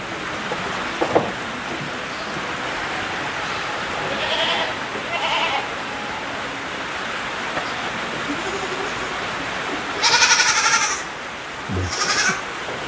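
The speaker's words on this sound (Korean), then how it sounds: "먹이를 줄까봐 가지고 아기 염소가 네, 다가옵니다" Baby black goats on a Tongyeong farm let out a few short bleats, spaced apart over steady rain-like background hiss, with a couple of louder calls near the end.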